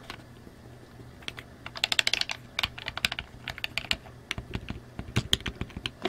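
Buttons on an 8BitDo SN30 Pro game controller click in quick, irregular bursts of sharp, close taps, quiet and dry.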